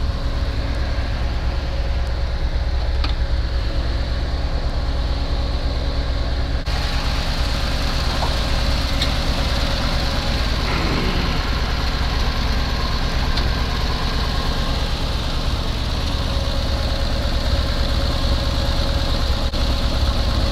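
A warmed-up car engine idles with a loud, steady low rumble and faint lifter ticking, unchanging for the whole stretch.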